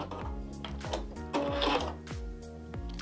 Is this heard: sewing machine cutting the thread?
yes